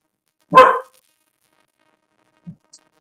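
A single sharp dog bark rings out nearby, followed by a couple of faint soft sounds in otherwise quiet surroundings.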